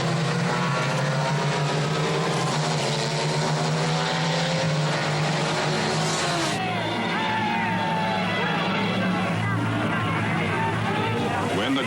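Race cars thunder away at the start of the Le Mans 24-hour race, a dense, loud roar of many engines blending with crowd noise and a narrating voice over the top.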